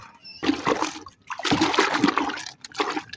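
Water for a pigeon bath being stirred and sloshed by hand in a container, heard as three loud, rushing splash bursts separated by brief pauses.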